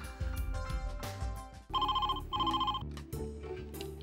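A telephone rings in two steady electronic trilling bursts separated by a short gap, heard over background music and room sound at a moderate, somewhat distant level.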